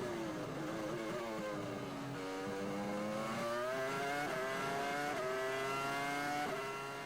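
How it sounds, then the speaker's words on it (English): Michael Schumacher's Formula 1 race car engine at the 2002 Australian Grand Prix, a high, sustained whine rising through several gear shifts at a moderate distance, with no commentary over it. "Let's just sit back a moment and watch Michael Schumacher at work"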